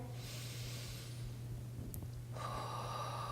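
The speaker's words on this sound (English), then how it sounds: "Breathe in one more time here." A deep breath drawn in during a slow yoga stretch for stress relief, a soft, airy inhale heard close up over a steady low hum, with no talking.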